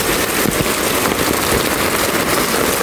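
Heavy rain pours steadily in Davao City during several days of downpour, a dense continuous hiss close by and loud throughout, with no voices.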